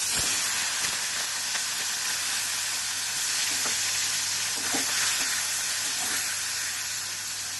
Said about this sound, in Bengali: চিংড়ি মাছটা আমার ভাজা হয়ে গেছে, এবার আমি তুলে নিলাম।